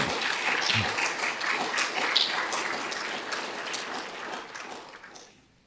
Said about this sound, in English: Good clap for that.